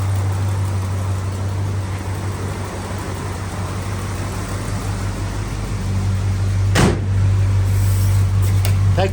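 Car on a test drive after costly repairs, with a steady low engine and road drone throughout and a brief sharp knock or thump near the end.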